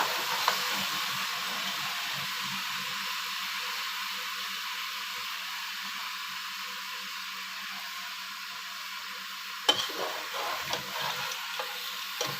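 Crab fries in hot oil in a home kitchen pan, with a steady loud hiss held for several seconds, then a few scraping stirs near the end.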